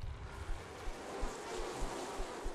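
Bees buzzing in the video game Mundaun, a steady, dense hum filling the whole stretch with occasional low thumps, no voices over it.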